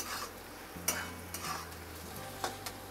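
Fried onion with turmeric being stirred in a pan, a quiet low sizzle with a few soft spoon scrapes and taps.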